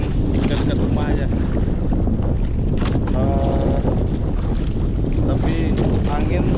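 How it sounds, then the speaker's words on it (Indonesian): Strong morning wind roars steadily across the microphone on a small fishing boat out drifting near shore, with water sloshing against the hull beneath the constant buffeting gusts. "Tapi angin pagi ini lumayan kencang sekali angin."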